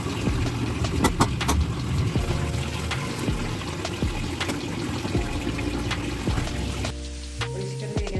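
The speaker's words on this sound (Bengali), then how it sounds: "তারপরে এই যে বেসিনে বাসন আছে ধোবো" Dishes are washed in a kitchen sink basin, with running water splashing continuously alongside scattered clinks and clatters of utensils and plates, fairly close and steady throughout.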